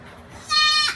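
A single goat bleat at a farm, a short wavering cry rising near and clear after a quiet moment.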